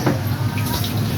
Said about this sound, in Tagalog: Shower naman pagkatapos gupitan.